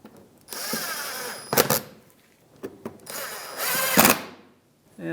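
Power tool driving 8mm bolts into the left inner fender liner of a 2007-2015 Mazda CX-9, two short whirring bursts near the mic with quiet gaps between them.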